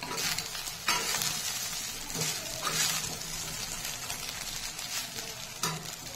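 Leftover rice with vegetables being fried and stirred in a pan for breakfast, a steady close sizzle with periodic scraping stirs of a spatula, no talking.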